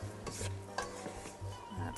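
A handheld electric mixer beats eggnog layer cake batter in a bowl, its low motor hum cutting in and out in short bursts amid scraping, clinking stirring sounds.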